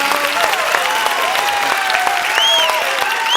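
A studio audience claps after a song on a Malayalam television singing show, dense continuous applause close by with a few whistles and cheers rising over it.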